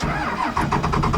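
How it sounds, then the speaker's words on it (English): A Ford 6.7L Powerstroke diesel truck engine cranks and catches, settling into a loud, close, rhythmic idle on a cool sunny morning. "fire up the old 12er again here"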